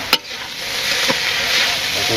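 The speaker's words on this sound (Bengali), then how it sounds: "আর একটু ভাজি হবে তাই না, কড়া করে।" Fish fries in a pan with cumin paste, a steady close sizzle filling the clip, punctuated by a few brief stirring scrapes.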